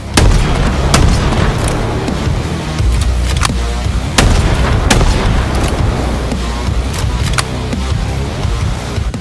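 Heavy, booming shotgun-style blasts from the Mutilator weapon in Halo Infinite, loud and close, firing repeatedly at a steady rate with rumbling low-end impacts throughout.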